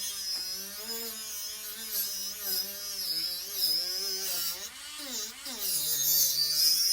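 A buffing tool with a 2500 grit white compound polishes a silverware fork and spoon, producing a steady motor whine that shifts in pitch as the tool is pressed and eased, with faint high hiss.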